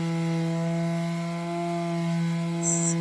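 An orbital sander runs steadily on wooden furniture, producing a loud, even electric hum with a constant pitch and no breaks, heard alone without any talk.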